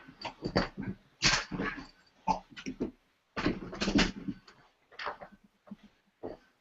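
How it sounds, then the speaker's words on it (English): The roommate's dogs bark repeatedly in irregular clusters of sharp yaps, with short pauses between volleys, heard at a distance and fairly quiet. "My roommate's dogs like to bark at everything."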